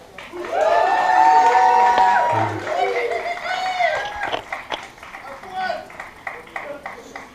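A crowd bursts into loud cheering and applause for performers, with whoops and shouts rising over steady clapping before it gradually thins into scattered claps and chatter.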